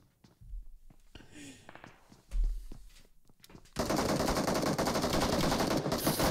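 Automatic gunfire in the battle-royale game BGMI, a loud continuous burst of rapid shots filling the second half after scattered quieter shots and footsteps earlier.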